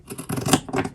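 Scissors snip through fabric while a simple handbag is cut out, giving a rapid run of crisp, close, rasping cuts in short bursts with a brief pause midway.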